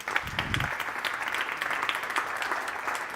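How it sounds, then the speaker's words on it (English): A conference audience applauds as two panelists from Portugal and Iceland walk onto the stage, with steady, dense clapping that holds at an even level throughout. "Let's give them a nice round of applause."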